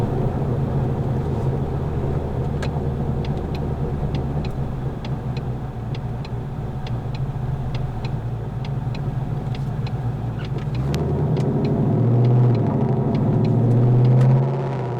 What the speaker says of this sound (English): Give you guys an idea of how loud this actually is. I have the active exhaust right now.